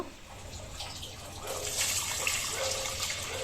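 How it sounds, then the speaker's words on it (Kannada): Water streams steadily into a pot of pigeon pea lentils and tomatoes with a hollow, rushing splash that grows slightly fuller over a few seconds. "ನಮಗೆ ನೀರು ಎಷ್ಟು ಬೇಕೋ ಅಷ್ಟು ಹಾಕ್ಕೋಬೇಕು"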